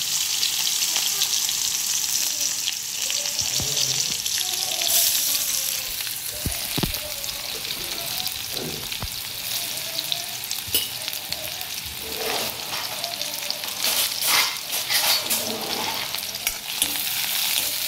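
Finely chopped onion fries in a pan after mustard seeds have popped, a steady loud sizzle and crackle running throughout, with occasional stirring scrapes and small knocks rising over it, close up.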